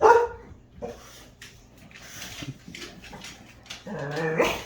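Several dogs bark and whimper in bursts close by, with a loud outburst at the start and again near the end, and no talk over them.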